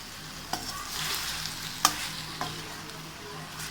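Washed chicken pieces sizzle steadily in hot oil in a pan while being stirred, a continuous close frying hiss broken by a few sharp scrapes of the spoon.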